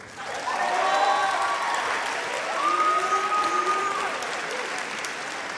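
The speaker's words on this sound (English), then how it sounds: "the first senior, and we clap loud for him, is Antonio Amador" An audience at a high school band spring concert applauds a graduating senior, loud sustained clapping with some crowd noise and a faint voice or tone drifting over it.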